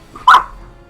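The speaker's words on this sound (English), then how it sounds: "There is a kitten under the bed. That's why you're barking under the bed." A dog barking at a kitten hiding under a bed: one short, sharp bark close by, standing alone against a quiet room.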